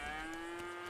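A cow lets out a single sustained, tonal moo that fills the short moment, steady and clear, with no talk over it.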